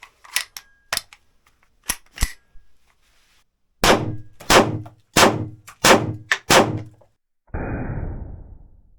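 A 9mm P.A.K. starter pistol being reloaded with a second magazine, several sharp metallic clicks and clacks, then five loud blank shots in an even rhythm, ending with a hissing burst of noise.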